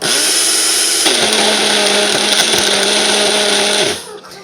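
A Mainstays personal blender motor whirs loudly and steadily, its pitch wavering as it pulses, then winds down near the end.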